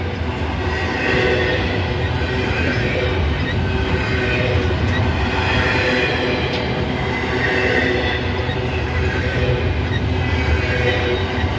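A CSX freight train carrying JB Hunt containers rolls past close by, a steady continuous rumble of wheels and cars with faint high squealing from the wheels throughout.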